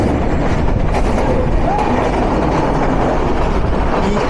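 The Padma Express train runs along a double line with a steady loud rumble and rattle of carriages as it crosses the Drutojan Express, continuous and close.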